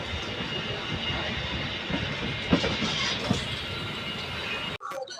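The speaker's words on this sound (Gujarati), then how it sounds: "મિત્રો આપણે ટ્રેન અત્યારે અમદાવાદ સ્ટેશનથી નીકળી ગઈ છે." Train rolling out of Ahmedabad station on a Dhola to Mumbai journey, with a steady rumble and hiss from inside the carriage, a few clacks of the wheels, then a sudden cut near the end.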